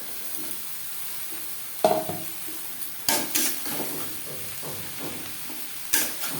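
Chopped snake gourd fries with onions in a pan under a low, steady sizzle, with a few sharp spatula knocks against the pan and scraping stirs at irregular intervals, close by.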